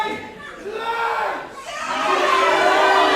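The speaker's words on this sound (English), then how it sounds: "Connor's calling for silence, but this sold out crowd here at the Richmond Palace" A sold-out arena crowd at a wrestling video game event keeps roaring and cheering through a call for silence, a dense wash of crowd noise that swells louder toward the end.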